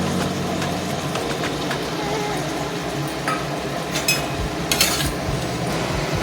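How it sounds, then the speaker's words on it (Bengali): Ginger paste stirred in a cooking pan for a vinegar chicken dish, giving a steady low scraping and rustling with faint sizzle and a few brighter clinks of utensil on pan near the end. "পাঁচ মিনিট নাড়াচাড়া করার পর আদার জলটা একদম শুকিয়ে গেছে"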